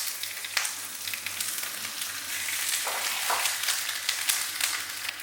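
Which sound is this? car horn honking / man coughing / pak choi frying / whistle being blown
pak choi frying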